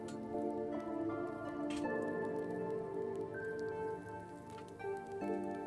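A rain spell in the video game Wizard With a Gun patters as a steady wash of raindrops on a surface, mixed with layered game music tones and occasional ticking effects.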